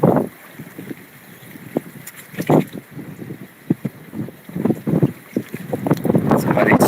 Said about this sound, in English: The wind's switching direction.